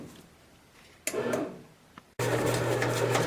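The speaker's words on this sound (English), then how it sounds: "the machine starts to speed up and it has that quicker whirling" A bread machine kneading white bread dough; after some quieter handling noises, its motor cuts in with a loud, steady whirring hum that holds to the end.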